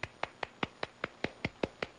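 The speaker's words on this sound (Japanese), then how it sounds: "ディレクターさんが向こうで拍手してくださってます。" A single person claps steadily in a radio studio, about ten crisp, evenly spaced claps over two seconds, close and clear with no talking.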